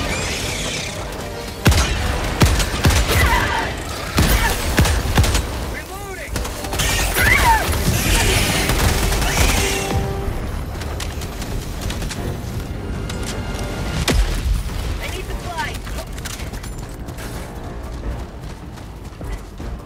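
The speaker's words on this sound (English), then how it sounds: "Watch my grenade." A grenade explosion bursts during Helldivers combat, a loud boom amid dense gunfire and battle noise, with voices speaking over the chaos.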